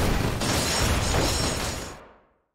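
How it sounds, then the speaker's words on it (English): A helicopter struck by lightning explodes in the Tomb Raider video game, a loud broad burst that holds steady as a rumbling roar for about two seconds, then fades out. "Now, a helicopter getting hit by lightning"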